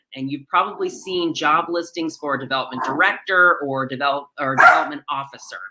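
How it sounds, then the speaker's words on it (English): A pet dog barks and yips in the background during an online nonprofit presentation, its bursts mixed under a man's steady, continuous talking. "Apologies for my dog."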